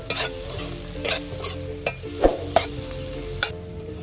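Ghee mutton chukka being stirred and fried in a pan, a low steady sizzle broken by several sharp scrapes and clinks of a spoon against the pan, close up with no talk.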